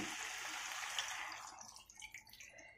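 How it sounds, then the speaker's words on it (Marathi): Water splashing into a pan of dal and pumpkin makes one faint pour that washes in and then tapers off into scattered drips. "इथे मी 1 ग्लास पाणी घातले।"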